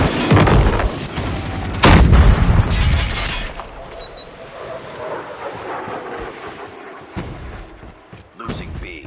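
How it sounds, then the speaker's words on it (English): Napalm airstrike explosions in Call of Duty Mobile multiplayer roar out as heavy, loud booms with rumbling blasts and crackling fire that fade into a lower, sustained rumble. "Friendly napalm deployed."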